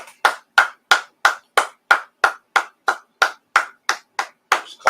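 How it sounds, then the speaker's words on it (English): Hand claps from a class in Paterson ring out one after another in a steady, even rhythm, about fifteen sharp, loud claps in five seconds with no voices over them. "Let's clap it up."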